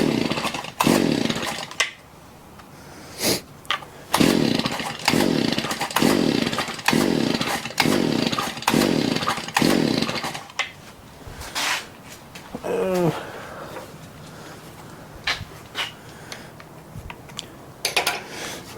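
A Shindaiwa edger engine with a revving fault runs unevenly once the choke is off, giving a rapid pulsing sputter that repeatedly rises and cuts out, followed by sparse clicks and knocks nearby.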